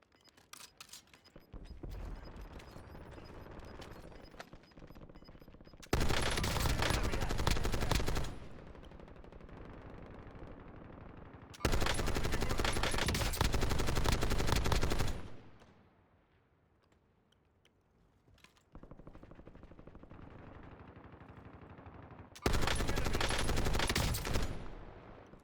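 XMG machine gun firing in a video game: three long bursts of sustained automatic fire, loud and dense, separated by quieter stretches of background noise and a near-silent pause.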